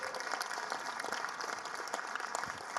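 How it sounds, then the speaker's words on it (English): An audience at a motivational talk gives a round of applause, a quiet but dense, steady patter of many hands clapping with occasional louder individual claps, sustained for a few seconds with no speech. "A round of applause for her right there."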